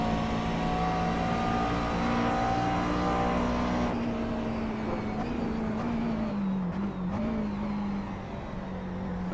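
A McLaren MP4 12C engine drones steadily around Oran Park in the iRacing sim, with a sustained, fairly loud engine note that dips in pitch partway through as the car eases off.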